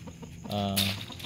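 A farm chicken gives a short, loud cluck-squawk against a faint background, with a voice speaking briefly.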